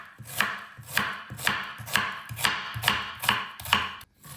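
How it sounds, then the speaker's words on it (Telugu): A knife chops onions on a cutting board in a steady rhythm of about eight crisp, close strikes, each with a short scraping tail, alone with no talk. "ఆనియన్స్ కట్ చేసేసుకుంటున్నాను."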